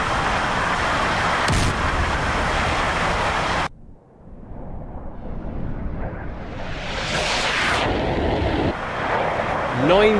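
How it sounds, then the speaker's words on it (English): Massed ballistic missile strike in the DCS flight simulator, with 96 missiles arriving time on target: a loud, sustained roar of explosions gives way abruptly near four seconds to a rising rush and rumble that builds again toward the end. "96 ballistic missiles fired time on target."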